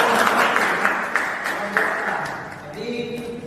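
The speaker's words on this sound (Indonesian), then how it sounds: "Oke, tepuk tangan." A classroom group claps after a student discussion presentation in a lesson, a short burst of applause that fades over a few seconds while voices talk over it.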